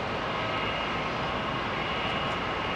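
Airbus A380 jet engines roaring steadily during climb-out after takeoff, a continuous broad rumble with no voices, sounding fairly distant.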